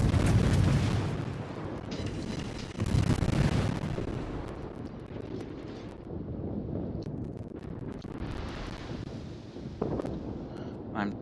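A warship's naval guns fire in World of Warships: a few heavy rumbling salvos boom out, the loudest at the start, over a continuous windy roar at sea.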